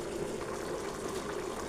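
Water being added to a pot of Jamaican-style curry chicken, a steady close gush of pouring liquid lasting throughout, with no voices.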